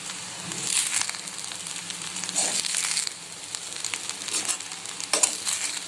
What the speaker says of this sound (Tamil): சேர்த்து நல்லா பரட்டி விட்டுருங்க, பொறுமையா பரட்டுங்க, இல்லைன்னா ரைஸ் உடஞ்சிடும்.